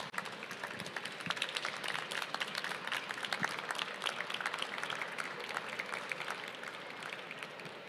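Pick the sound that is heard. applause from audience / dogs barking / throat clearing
applause from audience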